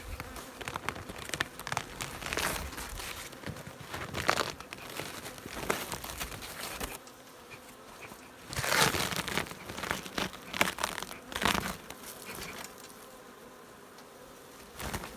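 Honeybees buzzing at a hive in spring, the colony packed with heat-insulating material. A dense, steady hum with crinkly rustling and swelling bursts runs throughout, close and moderately loud.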